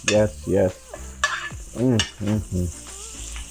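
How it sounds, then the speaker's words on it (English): A New York ribeye steak sizzles in a cast iron pan as it is basted with butter, rosemary and garlic. The steady sizzle runs beneath repeated emphatic vocal exclamations. "Now I'm going to baste it with the butter and that rosemary garlic."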